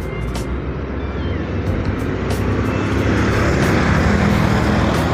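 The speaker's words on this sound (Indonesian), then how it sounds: "Ini dia bus Harapan Jaya 7278." Harapan Jaya bus number 7278 passing near a toll road in the afternoon, a loud, close engine roar and tire noise building steadily as it goes by.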